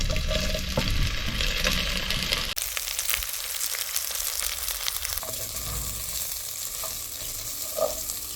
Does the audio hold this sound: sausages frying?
yes